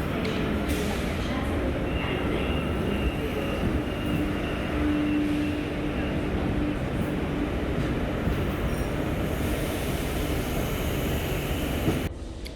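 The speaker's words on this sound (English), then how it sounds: "I decided to go for a quick ride on board and watch this train depart" A Sydney K-set electric train departing, heard from on board as a steady loud rolling rumble with a brief tonal motor whine, continuous throughout.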